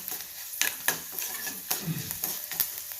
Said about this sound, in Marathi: लाल मिरची आणि मेथी असं करून मी याला छान फोडणी खमंग भाजून घेत आहे